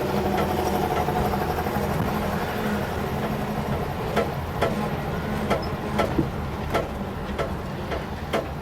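An International Scout engine runs at a steady idle with a rough, throbbing mechanical drone, close and fairly loud, with light ticking clatter layered over it.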